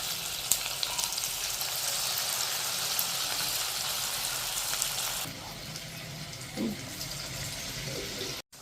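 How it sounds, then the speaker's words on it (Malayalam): Onion vada batter dropped into hot oil fries with a loud, steady, close sizzle that drops to a softer crackle about two thirds through, with a brief splash near the end. "ഇനി നമുക്ക് ഈ ഒരു ഓയിൽ ചൂടായി വരുമ്പോൾ അതിലോട്ട് നമ്മൾ നേരത്തെ മിക്സ് ചെയ്ത് വെച്ച മാവ് കുറേശ്ശെ ആയിട്ട് ഇട്ട് കൊടുക്കാം"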